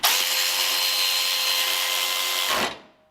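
A Milwaukee FUEL electric ratchet whirs loudly and steadily for about two and a half seconds as it tightens a bolt, then winds down abruptly and stops.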